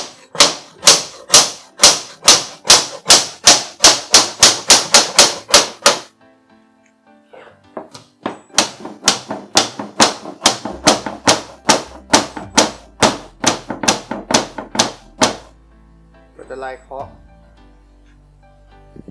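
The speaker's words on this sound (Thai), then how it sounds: "แล้วก็ทำการเคาะมุมให้เข้าให้สนิท" A hammer taps the corners of an aluminium screen door frame into place in a quick, even run of sharp, loud knocks, then a brief pause and a second long string of taps, close to the listener.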